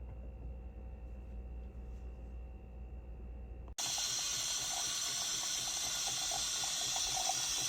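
A Jura Z10 coffee machine runs a plain water rinse: a low mechanical hum gives way to a sudden, loud, steady rush of water that continues to the end.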